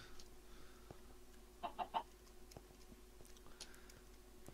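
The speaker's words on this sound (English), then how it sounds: "Hello, chicken. Die, chicken." In a Minecraft game, a chicken gives three quick, quiet clucks in a row over a faint background hum, with a few soft clicks and taps around them and no talking.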